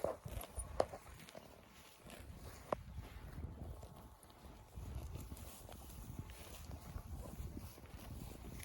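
Slow hoof clip-clops from a walking mare, irregular steps over soft ground, with light wind rumbling on the microphone in the background.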